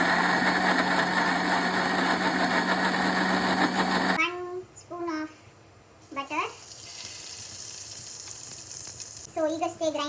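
A kitchen mixer grinder whirs loudly and steadily for about four seconds while grinding chilli, tomato and garlic for chutney, then stops, and a person speaks.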